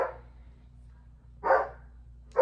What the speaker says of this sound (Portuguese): Toda vez que eu começo a gravar, ele começa a latir.